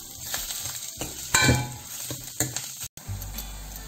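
Chopped onions with a pinch of salt sauté in a pan over medium heat, with a soft sizzle, a few sharp clinks and scrapes of a spoon stirring against the metal, then a brief cutout near the end.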